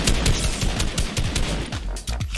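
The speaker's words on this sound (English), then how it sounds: "Oh, rapid fire SMG. Don't mind if I do." Rapid-fire SMG bursts from Fortnite, a dense stream of loud, close automatic shots cracking in quick succession throughout, with no talking over it.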